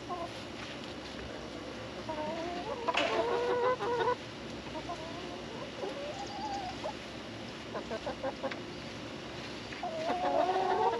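Chickens cluck in a chicken coop, a close, busy chorus of warbling clucks and squawks that rises and falls over steady background noise, with louder bursts now and then.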